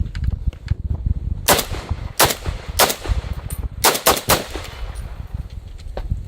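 A Romanian PSL semi-automatic rifle fires outdoors at rocks: several loud, sharp shots in irregular succession, some spaced apart and others in quick pairs, over a rumbling outdoor background.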